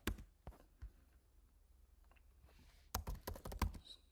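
Keys clack on a computer keyboard as a command is typed: a few scattered strokes, a pause, then a quick close run of keystrokes at the end, with no one speaking.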